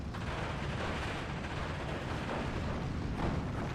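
An air strafe attack rages in the World War II strategy game Steel Division 2, a dense, continuous roar of gunfire and explosions with rumbling booms throughout.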